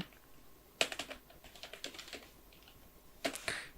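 Quiet, close clicks of a computer keyboard as a domain name is typed, with a short burst of keystrokes, scattered single taps and another flurry at the end, no speech.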